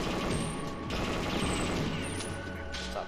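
Steady, dense gunfire from the Dragon gun in the Perfect Dark video game pours out as a continuous rattling stream, loud and unbroken, with no talk.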